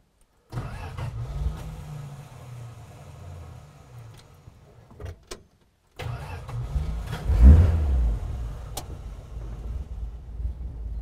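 An old car engine cranks and sputters, reluctant to start, cuts out briefly, then starts again and idles with a low rumble and a brief rev.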